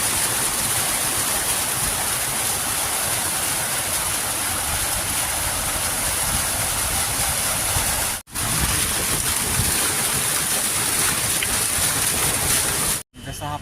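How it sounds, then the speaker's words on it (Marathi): A stream flowing on the grounds of the Global Vipassana Pagoda at Gorai, Borivali, a constant loud rushing wash of water that briefly cuts out twice. "मस्त असा झरा वाहतोय."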